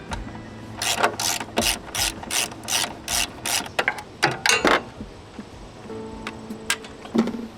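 A ratchet wrench clicks in quick bursts while removing two 10mm bolts during a flex fuel install on an Audi C7 4.0T, close and loud with short pauses between strokes.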